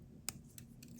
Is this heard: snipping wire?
yes